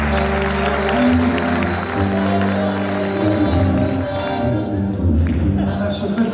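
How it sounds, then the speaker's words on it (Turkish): An audience applauds loudly and steadily at a live event for Arif Şentürk in Bayrampaşa, a dense sustained wash of clapping filling the whole stretch, with crowd noise blended in. "Bu kadar mı alkış ya?"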